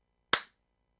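A single sharp hand clap, crisp and close, with a short decaying tail against near silence.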